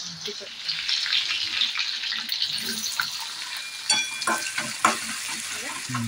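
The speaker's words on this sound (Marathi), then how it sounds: "त्याच्यानंतर मी भाजी फोडणी घालून घेतले बघा." Mustard seeds, green chilli and vegetables for a suran flower curry crackle and sizzle in hot oil in a pan, with scattered sharp pops and stirring scrapes over a steady frying hiss.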